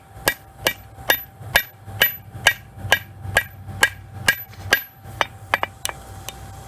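Hammer striking a hot railroad spike on an anvil to forge a knife bevel, about fifteen loud, ringing metallic blows at an even, steady rhythm, close up, with no talking.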